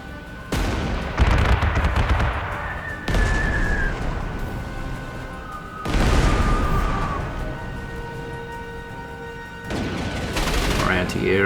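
A rapid-fire 88 gun in the Panzer Corps 2 strategy game, several heavy booming shots in separate bursts a few seconds apart, loud and close, each followed by a ringing tonal tail.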